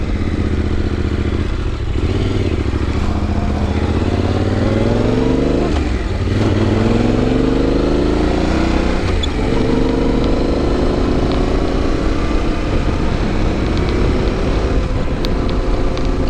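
Motorcycle engine on a road trip, a loud, continuous close drone whose pitch rises and falls through several throttle pulls and gear changes, with no talking over it.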